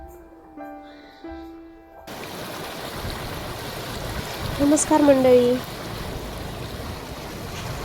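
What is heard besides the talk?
heavy rain and flowing water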